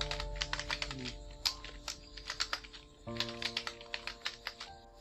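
Fast, close clicking keystrokes on a computer keyboard enter a font name, in two bursts separated by a short pause, with a faint steady hum beneath and no talk.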